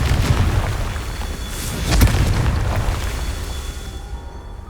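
A Confringo spell explosion in the video game Hogwarts Legacy, a loud rumbling boom with a sharp crack near the middle that fades into a dull roar, heard alone.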